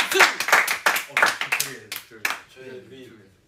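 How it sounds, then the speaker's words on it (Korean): A small group claps in a few quick bursts for a birthday during a casual livestream, the claps sharp and close, mixed with excited talking and laughter that carries on as the clapping fades. "박수! 박수! 박수!"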